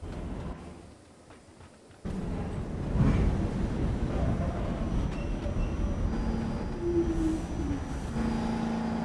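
An R46 subway train on the K local line runs with a steady, loud rumble and rail roar after doors close, a faint whine rising over the continuous noise.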